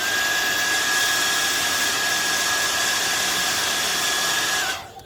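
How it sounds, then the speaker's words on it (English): A hair dryer blows steadily on stretched vinyl car wrap at a rusty front wing corner, a constant close whooshing airflow with a thin high whine, then clicked off near the end as the sound fades. "Just a normal hairdryer will do."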